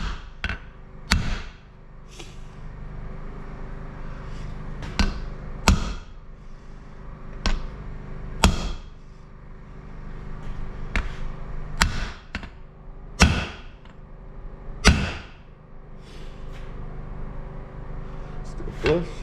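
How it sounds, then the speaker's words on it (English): Sharp metallic hammer blows drive a new wheel seal into a wide-five wheel hub at irregular intervals, some in quick pairs, loud and close, with quieter clatter between strikes. "And then you start hammering it home."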